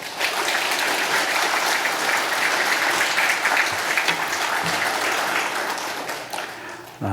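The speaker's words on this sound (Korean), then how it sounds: "우리 김원림 선교사님 나오실 때 큰 박수로 환영해 주시기 바랍니다." Warm, steady applause fills a church hall at a Sunday service as a missionary is welcomed forward, a dense sustained wash of many hands that holds evenly and fades slightly at the end.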